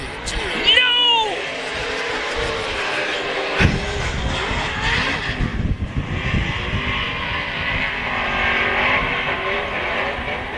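Pro 2 short course race trucks, 900 horsepower, two-wheel drive and full size, roar around the dirt track at Glen Helen Raceway in a loud continuous engine wash while an announcer talks over the crowd noise.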